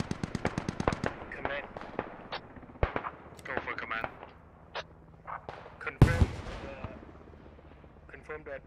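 A grenade blast in a SquadOps military game, one sharp heavy explosion in the middle of a firefight with bursts of rapid gunfire and someone talking over it.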